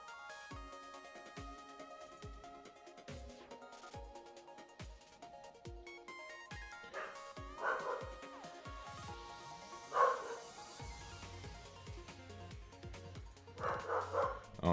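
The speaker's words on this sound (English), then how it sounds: "Oh no, they're mowing outside. My dog is less than appreciative of that." A dog barks repeatedly indoors, a run of sharp, moderately loud barks with a few higher whimpering yips, reacting to lawn mowing outside, while a faint low mower drone sits in the background.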